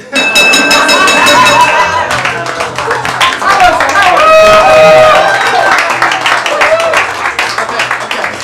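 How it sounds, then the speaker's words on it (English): Studio audience at a live improv comedy show applauding and clapping, a dense, loud wash of many hands sustained throughout with scattered cheers and bright clinks on top. "based on your applause"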